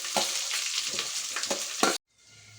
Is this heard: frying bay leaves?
yes